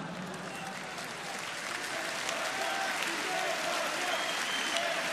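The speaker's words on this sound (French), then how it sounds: "Je vous interdis d'applaudir." Large rally crowd in Cannes claps steadily and densely, a continuous wash of applause building slightly in loudness and holding without a break.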